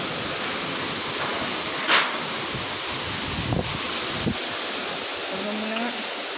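Strong typhoon wind from Typhoon Uwan battering a landing pad, a continuous roaring gust with buffeting rumble against the microphone and a few sharp knocks, while a voice speaks briefly near the end.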